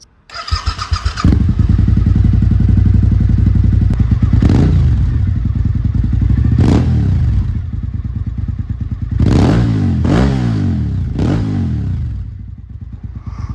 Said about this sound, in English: I'll get an audio clip of this bike real quick.